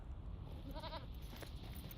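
A goat mount in Lord of the Rings Online gives a short bleat in the middle, faint, over a steady hum of ambient game sound.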